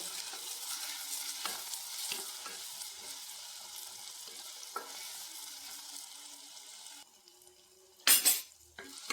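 Ingredients sautéing in a pan for macaroni, a soft continuous sizzle with scraping stirs of a spoon, then the sizzle drops away and a sharp clatter of utensil against pan rings out near the end.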